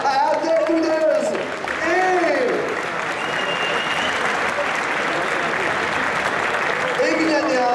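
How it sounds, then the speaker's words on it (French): A crowd at the Stunfest 2015 Super Street Fighter 2X team tournament final breaks into loud, sustained applause that fills the room, with a voice calling out over the clapping at the start and end. "tonnerre d'applaudissements pour les premiers de ce tournoi"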